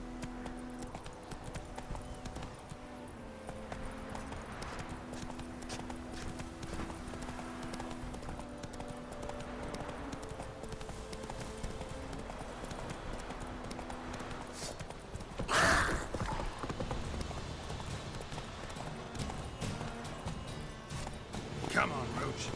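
Roach, a horse in The Witcher 3: Wild Hunt, gallops with quick rhythmic hoofbeats under a steady musical background, with a voice speaking partway and a brief burst of noise near the middle.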